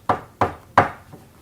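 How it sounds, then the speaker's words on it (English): Knocking on a front door: three firm, evenly spaced raps followed by a fainter fourth, close and distinct with no voices. "He was knocking on the door while I was looking"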